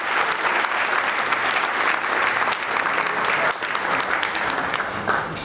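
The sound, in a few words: audience applause for a chamber choir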